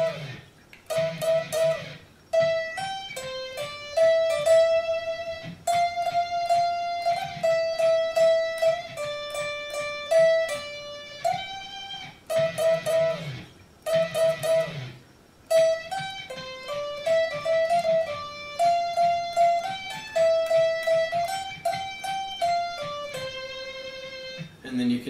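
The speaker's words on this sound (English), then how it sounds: "I'm hitting these 4th intervals, and I slide into them from a half step" Electric guitar plays a repeating phrase of two-note fourth intervals from the Jingle Bells melody, each one slid into from a half step below, with a steady, moderately loud rhythm.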